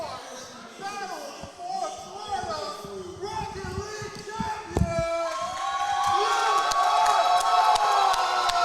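Fans at an esports grand final cheer as USF lifts the trophy, the crowd noise building from scattered whoops into a loud, sustained roar of shouts and cheers, heard under excited commentary talk.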